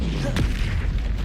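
A Bombardo spell explosion from Hogwarts Legacy lands as a single deep, booming thud, fairly loud and brief, amid ongoing game sound.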